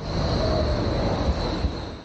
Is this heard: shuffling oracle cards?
no